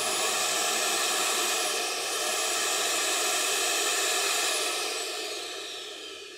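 A central vacuum system runs inside a 2024 Dutch Star motorhome, giving a steady, loud broadband hiss with a faint high whine that holds for several seconds and then gradually fades toward the end.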